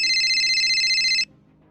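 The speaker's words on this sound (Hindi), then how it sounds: "तभी उन्हें कांस्टेबल पाठक का कॉल आता है" A telephone rings with a steady electronic warble, loud and close, then cuts off abruptly partway through.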